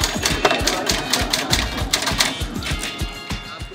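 An old manual typewriter clatters with rapid, irregular keystrikes, close and fairly loud, with a steady mechanical rhythm and no voices over it.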